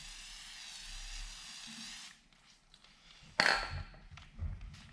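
A steady hiss of aerosol spray lubricant for about two seconds, then quiet handling noises and a sudden sharp hissing burst near the end, while working on a new 4-inch hose.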